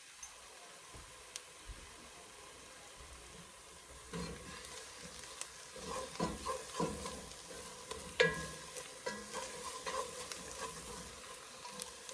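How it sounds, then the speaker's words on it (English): Onions sautéing in melted butter in a pan for cream of broccoli soup: a steady close sizzle with scattered stirring scrapes and light taps, growing busier partway through, no voices. "we're going to saute the onions."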